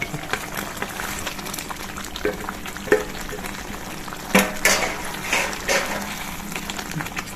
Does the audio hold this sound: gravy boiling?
yes